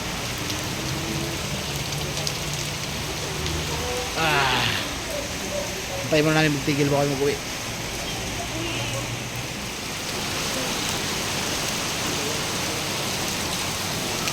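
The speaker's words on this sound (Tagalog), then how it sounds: "Grabing kalakas ng ulan guys." Steady heavy rain pours down throughout at Bell Church in Baguio, with people talking over it in the middle.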